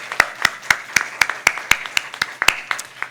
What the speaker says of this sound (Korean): 우리 다음 세대 친구들에게 박수 한번 보내줍시다